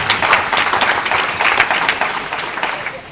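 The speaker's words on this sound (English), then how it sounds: "That deserves an applause." A crowd applauds at an award ceremony, steady loud clapping filling the whole moment with no voices over it.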